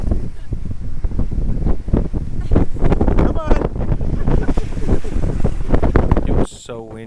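Strong wind from Typhoon Merbok buffeting a microphone in Nome, Alaska, a loud, constant roaring rumble with gusty surges, a brief spoken voice near the end as the wind drops.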